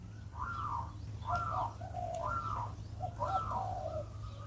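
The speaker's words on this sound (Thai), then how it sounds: "อย่างเสียงนกร้อง" Soft, repeated cooing bird calls, four or five short phrases in a steady rhythm over a low background hum.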